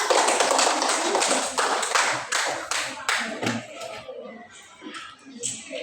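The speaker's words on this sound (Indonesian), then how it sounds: "Tepuk tangan untuk semuanya" A fifth-grade class claps together in a classroom, a loud burst that thins into a few scattered claps and then a final flurry.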